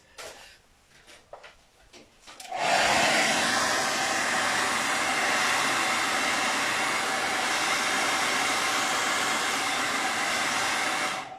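A hair dryer dries a chakra painting, starting abruptly after a few seconds of quiet handling and then blowing as a loud, steady broadband whoosh until the end.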